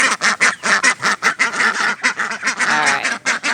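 Farm ducks quack and honk loudly and close by in a rapid, rhythmic run of calls, many voices overlapping with hardly a pause.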